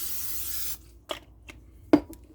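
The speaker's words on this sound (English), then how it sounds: "Now I'm going to lightly spray these." A short hissing spray of cooking spray onto cod fillets, followed by a few faint taps and rubbing sounds.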